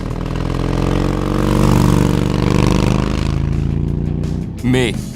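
A motorcycle with a KessTech ESE exhaust sound system rumbles close by, its steady engine note swelling slightly and then settling, before a short burst of a voice near the end.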